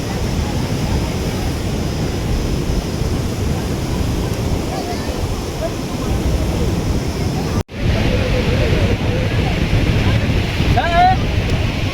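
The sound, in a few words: sea waves crashing at Bakkhali beach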